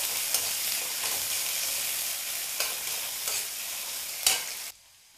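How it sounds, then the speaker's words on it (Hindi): Onions fry in a hot pan, a steady bright sizzle with a few sharp scraping stirs, close and loud, before the sound cuts off abruptly near the end. "अभी हम इसमें प्याज डाल देंगे, इसको थोड़ा गोल्डन ब्राउन कलर होने तक भूनेंगे।"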